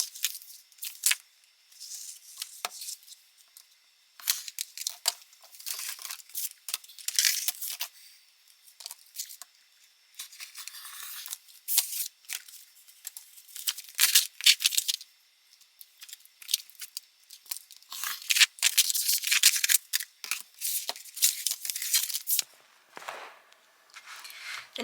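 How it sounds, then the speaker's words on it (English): A rotary cutter slices through paper card again and again, giving close, crisp bursts of scraping and rustling with short pauses between strokes. "I'm going to use my rotary cutter to cut this"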